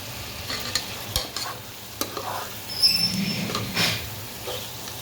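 Pieces of fish drop into spiced masala frying in a pan, setting off a steady, close sizzle with occasional utensil knocks and stirring scrapes.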